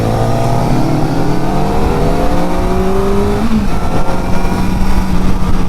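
A Kawasaki ZX-4RR motorcycle engine drones steadily while being ridden, loud and close, with wind rush underneath and engine pitch slowly sliding as the throttle eases off.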